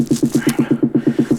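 Rapid, evenly spaced snare hits in a dance-track build-up, about eight per second, loud and punchy with a sweeping automated filter changing the bright top end.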